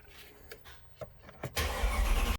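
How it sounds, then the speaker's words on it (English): A rebuilt Mercedes-Benz CLS AMG engine cranks over for its first start, a few short clicks and thumps leading into a sudden loud, steady roar as it fires and runs, close by with no talk. "Първо палене."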